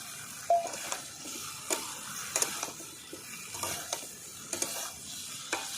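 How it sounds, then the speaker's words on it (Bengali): Fried potatoes and eggplant sautéed together in a pan, a soft steady sizzle under spaced scrapes and clinks of a spatula stirring, close and moderately quiet, with no talking. "দু মিনিট ধরে ভালো করে কষিয়ে নেব"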